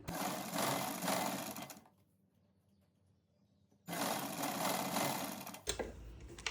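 Sewing machine stitching along folded fabric to make a cloth drawstring (dori), running loud and steady for about two seconds, pausing briefly, then whirring again in a second sustained burst.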